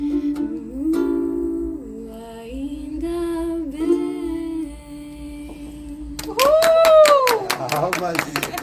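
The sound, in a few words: applause for a singer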